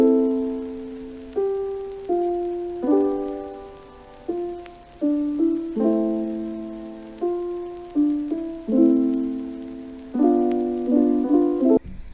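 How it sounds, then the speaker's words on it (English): A mellow keyboard melody with sustained chords over a steady hip-hop beat, soft vinyl crackle running underneath throughout. "Here's how that sounds with the vinyl."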